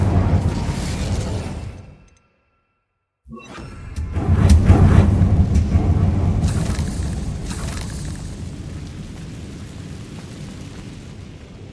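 A fire spell bursts out in the Hogwarts Legacy video game: a sudden loud whooshing blast with deep rumble after a brief silence, then sustained roaring crackle that slowly fades, with no talk.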